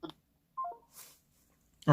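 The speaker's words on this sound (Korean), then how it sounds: "전화를 잘못 누르시는 것 같아" A phone keypad sounds a few short beeping tones, separated by brief pauses, during a broadcast call-in, with a voice starting at the end.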